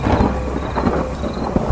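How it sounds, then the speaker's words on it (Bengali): A loud, rumbling thunderclap in a dramatic Bengali horror audio story, with heavy low rumble and a rain-like wash running throughout, no voices. "বাইরে ভীষণ জোরে একটা বাজ পড়ল।"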